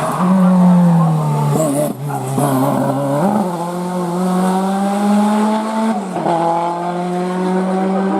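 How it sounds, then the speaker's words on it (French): A 1980s Renault R5 GT Turbo race car with a 1400 turbo engine runs loud and close at the Turckheim – Trois-Épis hill climb. The engine drones steadily, with brief dips at gear changes around two and six seconds. "cette R5 GT Turbo hein, qui garnissait les plateaux des rallyes, des courses de côte."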